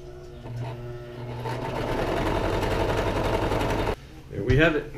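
A sewing machine runs steadily for about four seconds, stitching a quilt fabric channel shut, its fast even buzz stopping abruptly before a brief voice is heard.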